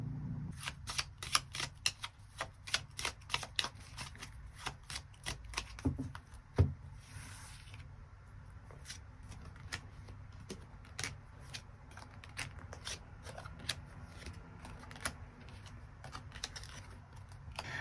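Tarot cards are shuffled and drawn in a rapid run of crisp flicks and taps that is busy at first, then slows to sparse clicks in a quiet room with no voices.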